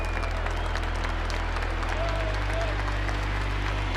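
Crowd applause at the 2017 EITF Taekwondo European Championships in Liverpool, a steady, moderately loud patter of clapping set under a low electronic music drone.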